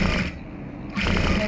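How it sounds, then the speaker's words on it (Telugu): Sewing machine stitching hand-cut lining cloth onto a garment, running in a close steady buzzing whir that pauses briefly in the middle and then resumes. "ఇలా దీనిపైన స్టిచ్ చేసుకుంటూ వెళ్ళాలి."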